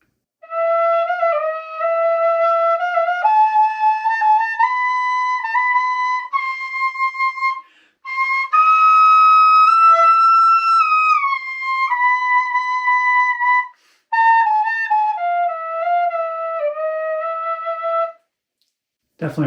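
A tin whistle set to the E setting plays a Namaste (Byzantine) flute scale, a clear run of sustained breathy notes stepping up and down, with brief pauses between phrases and no talk.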